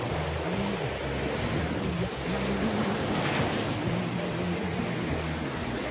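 Sea waves wash along a rocky shoreline, a steady loud roar of surf mixed with wind buffeting the microphone, continuous for several seconds with no talk.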